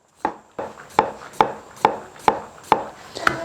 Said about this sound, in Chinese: 今天炒回锅肉的配菜，咱们准备的是土豆，切片